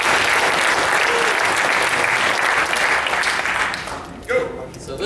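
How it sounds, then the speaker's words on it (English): An audience at a tech talk comparing key-value stores claps loudly and continuously, the applause thinning out and fading in the final second. "Big round of applause."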